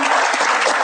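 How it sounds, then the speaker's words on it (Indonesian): A brief, dense burst of audience applause, under a second long, during an inspirational Islamic talk. "Kasih tepuk tangan lagi."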